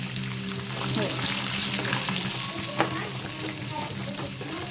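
Onions frying in a pan for an onion chooda dish, giving a steady crackling sizzle with occasional utensil clicks and a faint background hum.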